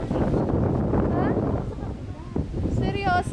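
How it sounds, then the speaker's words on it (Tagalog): Strong wind buffets the microphone in gusts at an outdoor theme park in Tagaytay, a steady low rumble running throughout beneath people talking. "Lakas ng hangin"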